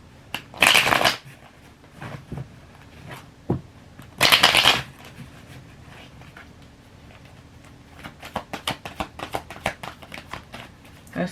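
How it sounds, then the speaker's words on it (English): A deck of tarot cards is riffled and shuffled in two loud bursts, followed by scattered soft taps and quick flicks of cards being handled up close. "Let me give it a quick shuffle."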